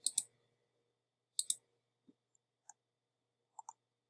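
Sparse computer mouse clicks while selecting a web activity, with a double click near the start, another pair a second later, then several fainter single clicks spread out in a quiet room.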